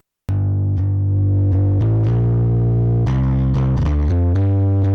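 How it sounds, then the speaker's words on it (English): Distorted electric bass notes played in a loose sequence through the Nembrini Audio Lofi Vintage Clipper distortion, fizzy and gritty with a buzzing edge, loud and close with no voices. "if I go over and give it some distortion instead"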